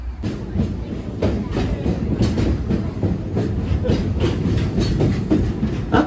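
A train rumbles steadily along the rails with a regular clickety-clack rhythm, loud and continuous throughout.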